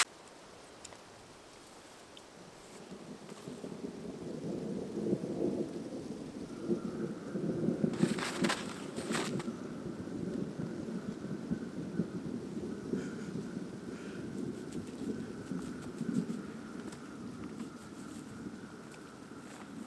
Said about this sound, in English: I don't know that I can say I've ever experienced a thunderstorm in the winter before.